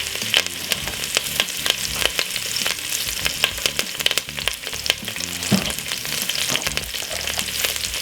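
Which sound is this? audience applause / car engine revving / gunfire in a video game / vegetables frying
vegetables frying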